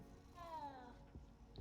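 A cat in the Hogwarts Legacy video game gives a short, moderately loud meow with a gliding pitch over soft game ambience, followed by a brief thump.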